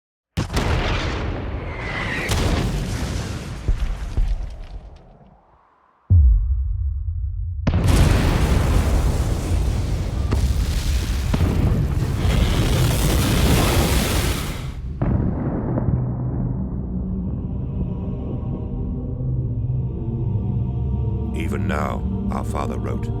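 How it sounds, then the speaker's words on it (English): Bombardment cannons fire inferno shells in a science-fiction battle scene, making heavy deep booms and a long roaring rumble that fills the sound, with a brief near-silent gap before the blasts and dramatic voices over the top. "Inferno shells loaded into bombardment cannons"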